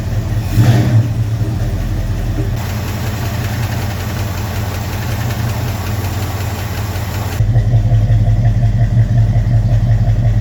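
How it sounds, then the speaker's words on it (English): A car engine misfires after an engine swap, idling rough and loud with an uneven, knocking pulse. The tone shifts partway through, then returns to a heavier chug near the end. "I think it's misfiring. It doesn't sound that great."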